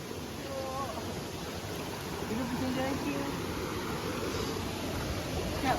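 Sungai Ranting river water rushes steadily toward a waterfall in a constant broad wash, with faint voices murmuring underneath.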